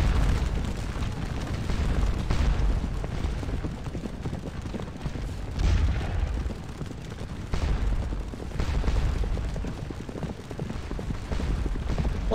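Cannon fire rumbles through a field battle cavalry tactics video game, a dense steady roar of distant booms and crackling volleys that goes on without a break.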